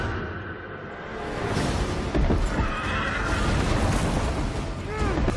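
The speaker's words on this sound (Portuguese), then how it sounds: "Você galopando a cavalo," Horse neighing and whinnying amid a chaotic film battle scene aboard a tilting, broken ship, with rising clatter and crashes filling the mix in a dense, loud wash.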